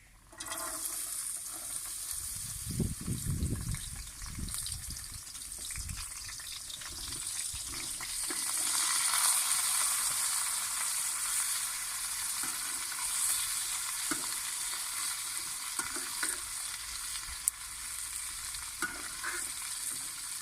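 Cauliflower pieces fry in ghee for aloo gobi, a soft, low sizzle with stirring movements, a brief burst of scraping early on, then a quieter, steady hiss.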